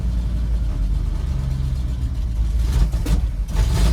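An old 1975 Dodge D100 truck engine on a new carburetor runs rough and loud close by, a low uneven rumble that roughens toward the end with a few sharp bursts, with no talking.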